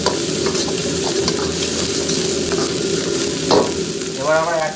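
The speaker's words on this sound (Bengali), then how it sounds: "অনিয়নটা দিয়ে ভালো করে নাড়িয়ে নেবো।" Onion sizzles and fries in a pan while being stirred, a steady dense crackling hiss with intermittent scraping strokes of a utensil, close and loud throughout.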